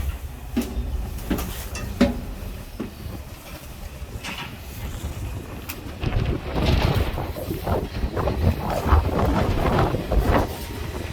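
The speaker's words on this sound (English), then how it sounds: "Windy out here, but I can't complain." Wind gusting across the open deck of the Jeremiah O'Brien, a WWII cargo ship moored in San Francisco, a steady low rumble with buffeting that grows louder and rougher in the second half, with no talk.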